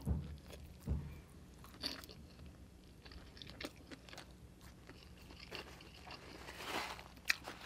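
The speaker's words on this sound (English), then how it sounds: "I got chili oil in my noodles. Let's taste." Crispy Vietnamese stir-fried noodles dressed in chili oil crunch under close, quiet bites and chewing, with irregular crackly crunches spread through the stretch and no voices.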